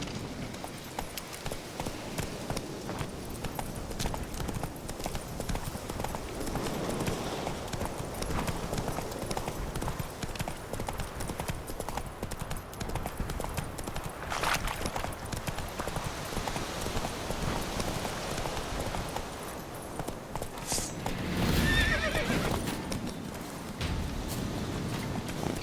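Roach the horse gallops in The Witcher 3, hooves clip-clopping in a steady, continuous rhythm through the whole stretch, fairly close and loud over ambient game sound.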